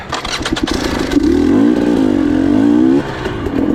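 An enduro motorcycle engine revs hard on a trail climb, a loud, close, steady throttle roar that rises and then drops off near the end.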